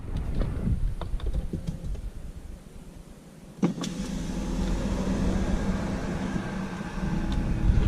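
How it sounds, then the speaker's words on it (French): An Alfa Romeo Stelvio Quadrifoglio Verde starts up. A quiet interior hum is broken by a sharp ignition transient, then a fuller, steady engine rumble settles in and swells slightly toward the end. "Je vais d'abord démarrer la voiture"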